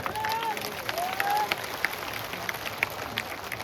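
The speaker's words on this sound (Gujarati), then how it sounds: "બે હાથ ઊંચા રાખી તાળીઓ પાડે" Crowd at a Thakor community rally clapping with hands raised, a dense sustained wash of applause with faint shouts, steady and moderately loud.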